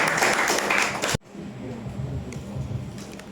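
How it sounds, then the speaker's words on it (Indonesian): An audience applauds briefly and loudly before the sound cuts off abruptly, leaving a quieter room with faint murmuring. "Tepuk tangan dong buat para Hayu."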